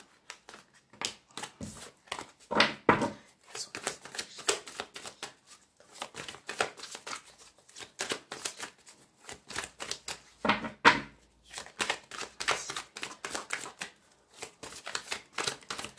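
A tarot deck is shuffled and cut by hand in bursts of rapid papery riffles and flicks, separated by short pauses, close and fairly quiet, with no speech.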